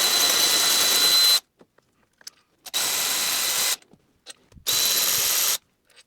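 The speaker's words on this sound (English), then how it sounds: "Next I'm going to remove the three 13mm bolts on the alternator bracket." A power tool works three 13mm bolts off an alternator bracket during a BMW N43 engine removal, in three loud sustained whirring bursts separated by quiet pauses with faint clicks.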